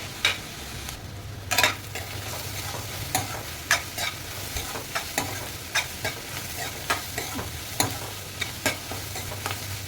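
Onions sautéing in oil in a pan for chicken masala, a continuous sizzle broken by regular scraping stirs of a spatula, close and clear with no talking.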